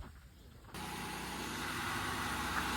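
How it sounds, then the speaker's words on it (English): A Mercury Sable/Ford Taurus 3.0 24-valve engine starts up and runs with a newly installed serpentine belt, a quiet lull giving way abruptly to a steady, even idle hum close by. "Yes, the engine's running, seems to be okay."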